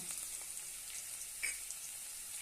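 Green chili sautéed with onion in a pan for curd upma, giving a faint, steady sizzle close by with a single brief scrape of a spoon midway, no talk.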